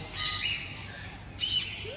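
A macaw at an exotic park in Tirupati gives two harsh, shrill squawks close by, separated by a brief pause, over a low background hum.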